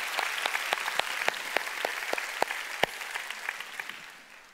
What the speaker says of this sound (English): let's give the Lord a big, big clap, hallelujah.